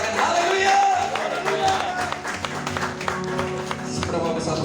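A congregation at a Saturday church service cheers and claps together, a dense crowd swell of applause and voices that stays loud for a few seconds before thinning slightly.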